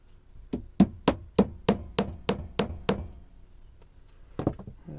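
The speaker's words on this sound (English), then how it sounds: "And tap the dowel in." A wooden dowel is tapped into a glued hole on a homemade propagation station, producing a quick run of about nine sharp, evenly spaced knocks, then a short pause and a brief final cluster.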